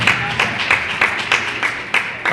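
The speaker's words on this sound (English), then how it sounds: "let's give a round of applause for Miss Winship's class" A school audience applauds a class with a quick, rhythmic burst of clapping, fairly close and lively but short, a few hands beating in loose unison.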